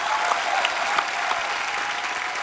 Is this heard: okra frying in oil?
no